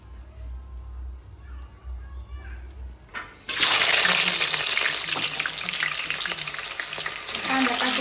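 Oil poured into a hot pot for biryani hits with a sudden loud sizzle after a quiet start, then keeps hissing and crackling steadily at close range, with a faint voice underneath.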